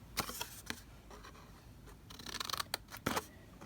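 Quiet, close snips of scissors cutting through card for a homemade gift box, several sharp irregular clicks spread across the moment, with a cluster of quicker cuts near the end and no talk.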